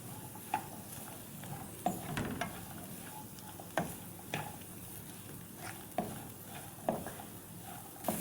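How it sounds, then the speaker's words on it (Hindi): Capsicum frying with peas in a pan, a faint steady sizzle broken by regular scraping taps of a spatula stirring the vegetables. "अब हम इसमें डाल देंगे शिमला मिर्च। इसे भी थोड़ा सा फ्राई कर लेंगे।"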